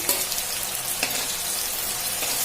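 Bitter gourd (karela) pieces frying in hot oil for a spicy Mithila-style stuffed karela, giving a steady close, dense sizzle with a few soft pops and clicks, no voices over it.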